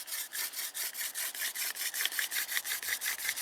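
A bow drill spindle spins against wood, giving a fast rhythmic back-and-forth rubbing, sawing-like sound with steady strokes repeating several times a second, close and alone.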